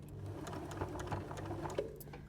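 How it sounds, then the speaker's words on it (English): A sewing machine stitches through the thick middle seam of an arrowhead star quilt block, where many layers of fabric meet, with a steady, rapid mechanical whir heard close and alone. "When you get to this middle seam, you've got about 11 billion layers of fabric to get through"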